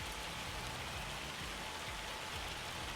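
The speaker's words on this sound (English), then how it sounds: "I can't see or hear anything because of how loud that hail is." Loud hail in the video game Farming Simulator 25 drums down as a dense, continuous roar of impacts, steady and heavy throughout with no voices.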